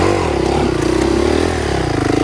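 A dirt bike engine braking in gear while rolling downhill at a motocross track gives a loud, close, throbbing rumble with a fluttering pulsing tone and rattly clatter.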